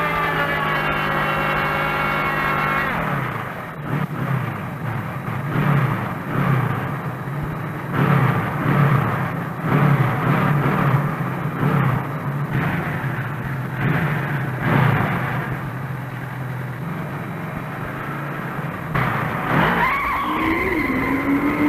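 A Suzuki GS drag racing motorcycle revving hard at the line, then a loud, sustained engine roar as it launches and pulls through its run, with a rising whine near the end.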